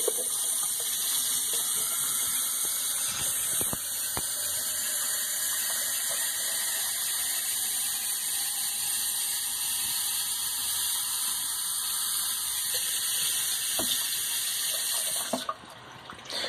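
Water runs steadily from a sink tap into a spare cup while making tea, a constant close hissing stream that lasts throughout and stops abruptly near the end.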